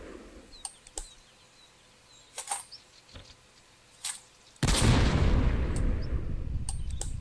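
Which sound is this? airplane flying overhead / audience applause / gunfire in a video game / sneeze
gunfire in a video game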